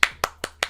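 Four sharp hand claps in an even rhythm, close and loud, each quick snap fading fast with no voices around them.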